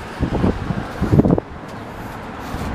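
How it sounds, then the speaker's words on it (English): Gusty wind buffets the microphone outdoors with low rumbling bursts, while faint traffic noise carries on in the background. "It's getting a little windy out here."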